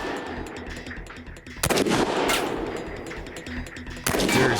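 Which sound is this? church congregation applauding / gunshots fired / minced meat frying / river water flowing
gunshots fired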